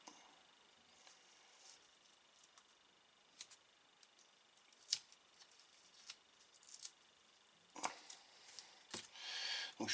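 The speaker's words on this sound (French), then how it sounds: "Donc je suis venu découper tout autour du disque." Scissors snipping around the edge of a disc during work on a BMW M6 GT3 model, a string of quiet, sparse clicks and cuts, close and alone, with a denser burst of cutting near the end.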